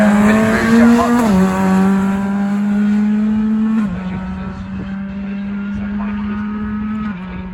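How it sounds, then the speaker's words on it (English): A production-spec rally car at a stage rally, its straight-cut gearbox giving a steady, loud engine drone with a gear whine layered on top, dropping pitch at each gear change. "Sounds very much like a straight cut gearbox."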